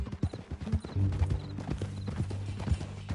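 Horse hooves clip-clop steadily in Red Dead Redemption 2, a close, rhythmic run of hoofbeats with a brief whinny-like tone and low background hum.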